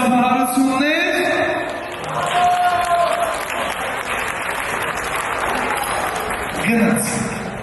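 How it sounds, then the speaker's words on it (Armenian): Loud applause from an audience fills the stretch, a dense steady clatter of clapping with a few voices and cheers breaking through, swelling again near the end. "Հնչում է բարձր ծափահարություններ։"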